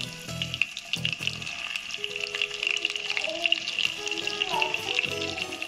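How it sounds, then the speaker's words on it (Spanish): Small pieces of chicken dropped into melted butter and oil in a pan, first a few soft thuds, then a bright steady sizzle and crackle of frying that continues close and loud. "ya que la mantequilla se derritió, vamos a agregar los pedacitos de pollo que se vayan dorando"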